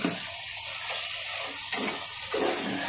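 Mutton sautéing in oil in a pan, a dense continuous sizzle with bright hiss and a couple of sharp stirring scrapes partway through.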